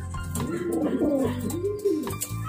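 A pigeon, a young racing bird, gives close, clear rolling coos in two drawn-out phrases, with faint handling noise around it.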